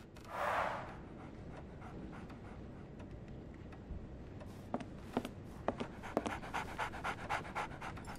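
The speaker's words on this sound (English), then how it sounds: "So, Barnes has a dog now." A dog in the Sherlock Holmes The Awakened video game pants in quick, rhythmic breaths, close and steady over a low ambient game background, with a louder breathy burst near the start.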